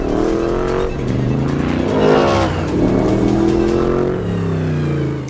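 A Ford Mustang GT3 race car, built on the Dark Horse, revs loudly up and down through several sweeping engine pulls, close and aggressive, with no talk.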